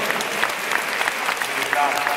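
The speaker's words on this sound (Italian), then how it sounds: "Facciamo un enorme applauso" An audience claps at the close of a presentation on the Susy Safe Project, brisk and fairly close, a short continuous patter of many hands with a voice briefly audible near the end.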